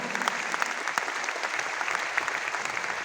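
An audience applauds Guruji at a Jashn-e-Bihar celebration, with dense, steady clapping that carries on evenly throughout.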